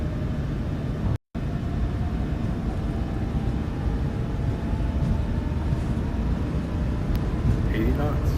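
PMDG airliner engines at takeoff thrust in Microsoft Flight Simulator 2020, on a Norwegian route out of Oslo: a steady, dense roar holds throughout with one brief dropout near the start.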